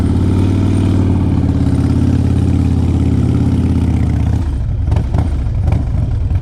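A carbureted 2004 Harley-Davidson Road King Custom V-twin idles with a steady, loud, lumpy low rumble, then blips into a few sharp revs near the end.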